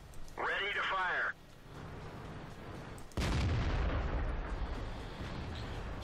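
A tank cannon shot in World of Tanks, a Centurion Mk I on the Karelia map: a heavy boom cracks out about midway and rumbles into a long decaying roar, preceded by a brief tonal radio-like voice cue.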